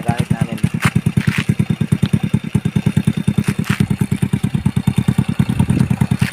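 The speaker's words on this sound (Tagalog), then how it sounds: "Kaya yung motor na gamit namin." A motorcycle on an overgrown rural road to a farm, its engine chugging in a fast, steady train of close, loud firing pulses with occasional rattles and clanks over the top.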